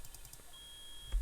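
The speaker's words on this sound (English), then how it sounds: "Beep." Recorded beep in a courtroom video game, a short thin electronic tone sounding faintly amid low background noise.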